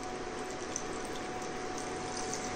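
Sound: water poured into moong dal khichadi mixture

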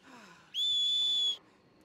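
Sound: horse whistle in video game Red Dead Online

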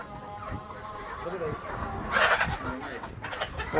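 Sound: chickens clucking at a poultry farm

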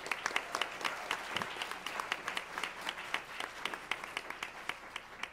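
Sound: audience applause

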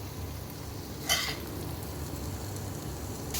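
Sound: ivy gourd and masala frying in a pan

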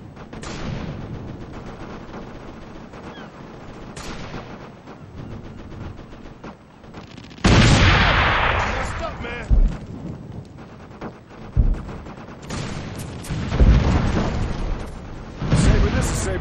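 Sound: artillery fire mission in Operation Flashpoint video game

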